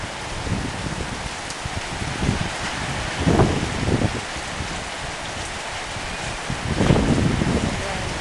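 Strong summer-storm wind gusts outside a library, roaring and buffeting the microphone in surges, with rain pattering steadily underneath.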